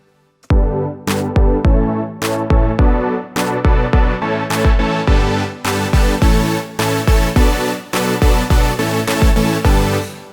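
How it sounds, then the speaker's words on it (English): Layered saw-square patch in a Serum synth plays a steady rhythmic chord riff with thumping bass on each note, loud and bright throughout, in a repeating pattern that continues for about ten seconds. "And of course we can use a cutoff."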